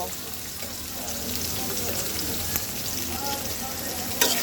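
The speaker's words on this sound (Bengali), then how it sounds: "এইবার সবগুলো মাছ সুন্দর করে ভেজে নেব" Steady, dense sizzling of singhi fish frying in hot oil, close and continuous, with a brief sharper crackle near the end.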